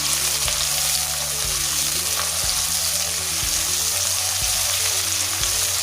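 Malabar tamarind is sautéed in a hot pan while making a Kerala-style prawn curry, giving a continuous, loud oily sizzle with occasional soft stirring knocks and no voices.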